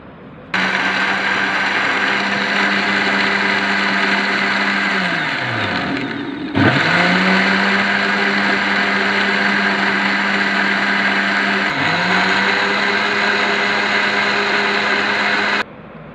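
A kitchen blender whirs loudly and steadily as it blends watermelon with sugar, lemon juice and black salt, its motor pitch dipping briefly twice under load and recovering, then stopping abruptly.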